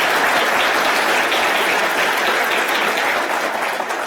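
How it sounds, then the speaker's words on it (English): City council meeting audience applauding a student achievement, a loud, sustained burst of clapping from the chamber that tapers slightly toward the end, with no speech. "You can clap."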